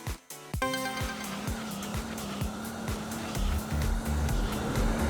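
A race car in Speed Demons 2 roars close by with a steady high engine drone, tyres sliding and skidding through repeated sharp gear shifts and thumps over about five seconds.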